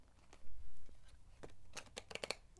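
A deck of playing cards being shuffled, a soft rustle followed by a quick run of crisp riffling snaps near the end, close and fairly quiet, with no speech.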